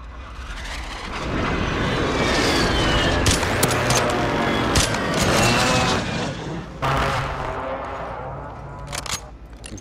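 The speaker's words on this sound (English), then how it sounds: "Friendly precision airstrike inbound." Heavy booming explosions from an airstrike in a military video game, a dense rumbling blast that swells and holds, then a second sharp impact later, with crackling debris and distant gunfire around it.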